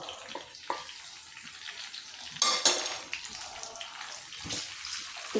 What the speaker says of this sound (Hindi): इसको मैं इसके अच्छे तरीके से फ्राई करती हूँ।